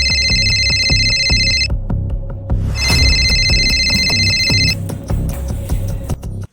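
A telephone rings repeatedly on stage during a children's Malayalam drama at a Kerala Samajam annual day, loud double bursts of electronic ringing separated by short gaps over a busy room background.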